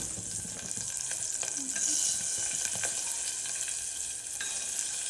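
Vegetables and peanuts go into a hot pan while cooking veg dal khichdi, giving a steady close sizzle and frying hiss with soft scraping stirs throughout.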